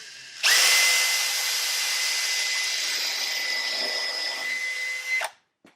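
A power drill whines loudly and steadily for about five seconds as it drives a screw into wood in a woodworking shop, then winds down and stops abruptly.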